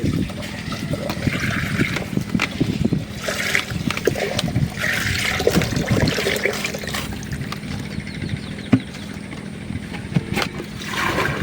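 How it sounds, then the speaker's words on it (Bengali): Water pours into a pot of broken-rice mixture mixed with turmeric and chili powder, a soft uneven trickle and splash lasting several seconds, fairly quiet with faint background noise. "এখন পানি দিয়ে দিই।"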